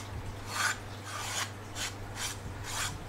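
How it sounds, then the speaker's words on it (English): A hand file rasps across a wooden edge, removing burrs, in five slow, even strokes, close up, with brief pauses between each pass. "here's my handy dandy little file here, and I just want to get any roughies off the edge."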